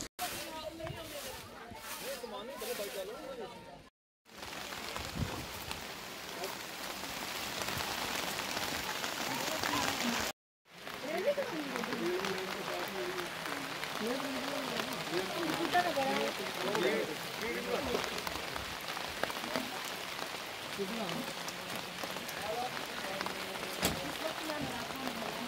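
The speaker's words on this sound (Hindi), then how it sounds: "बारिश हो रही है बहुत ज़्यादा" Heavy rain pours onto surfaces in a slum area of Jammu, a dense steady hiss and patter that continues under people talking, broken by two brief drops to silence.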